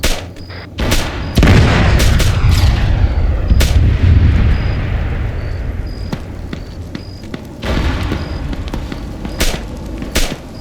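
A heavy, close barrage of gunfire and artillery-like booms erupting all at once, followed by a scatter of sharp, irregular shots and fading rumbles, loud and with no voices.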